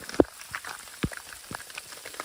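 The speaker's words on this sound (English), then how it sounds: "This rain is definitely motivation." Rain falling during a hike on the Tongariro Crossing, heard as scattered, irregular droplet taps and soft splashes against a steady, faint wet hiss, with no talking.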